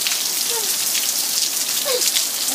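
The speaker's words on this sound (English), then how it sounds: "look at that. It's starting to rain." Steady rain falls outdoors, a dense, even hiss of drops on surfaces, close and continuous with no one speaking.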